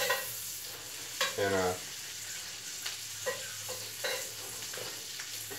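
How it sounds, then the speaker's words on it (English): Food stirred in a hot skillet while steak and asparagus cook, a steady quiet sizzle with a few scraping stirs, the clearest about a third of the way in, and a voice speaking briefly. "I'm going to stir these around a little bit"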